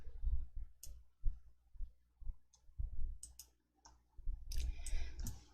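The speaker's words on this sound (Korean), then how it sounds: "확인을 클릭." A computer mouse clicking the OK button in Excel: a handful of soft, close clicks spaced irregularly, quiet and without talk.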